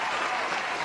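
A stadium crowd bursts into applause, a brief, loud, dense wash of clapping lasting under a second.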